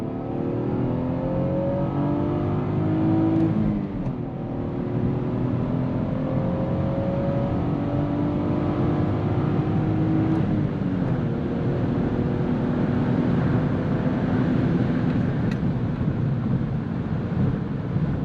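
A manual 5-speed Lexus IS300 accelerates hard toward 100 mph, its engine note climbing steadily through the gears with short dips at the shifts, heard loud from inside the cabin under steady road and wind roar.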